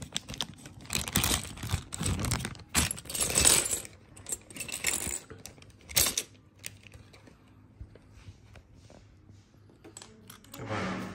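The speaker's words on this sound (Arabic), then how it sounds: "نفتح هنا البوكس ده، هنلاقي طبعا هنا كل الأكسسوارز اللي بتيجي" Someone opens the plastic accessories box of a Sister sewing machine and rummages through it. Close, sharp rattling and clicking of small hard parts comes in dense bursts, then tapers to quieter shuffling, with no talking.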